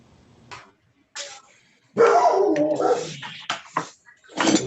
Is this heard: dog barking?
yes